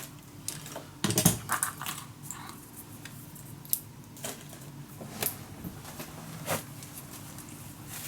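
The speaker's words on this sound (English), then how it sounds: "I can use my cutter, but I'm just gonna use my scissors also." Scissors snipping paper for a steampunk mini album, with short irregular cuts, a dense cluster early on and sparser snips later, fairly quiet and close, with no voices.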